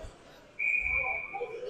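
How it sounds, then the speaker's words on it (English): A referee's whistle at a youth 16U AA ice hockey tournament game blows one sustained, shrill blast lasting about a second over the arena's background din, with faint crowd murmur underneath. "we have a whistle now"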